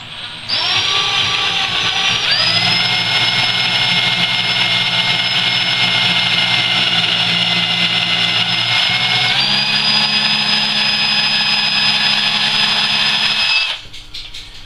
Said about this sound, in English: Okay, so you want to drill.